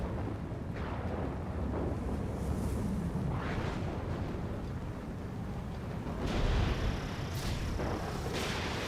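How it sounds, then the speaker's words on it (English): Missile launch and explosions in the jet combat game Ace Combat 7: a series of loud, rumbling blasts and whooshing bursts, several distinct booms spread across the stretch with a heavy low roar. "Launching missile."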